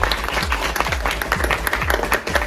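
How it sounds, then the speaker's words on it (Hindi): Loud audience applause at a makeup, skin care and hair care anniversary seminar, dense clapping from a crowd running steadily throughout with a rhythmic thumping beat beneath it. "तालियों की गड़गड़ाहट से"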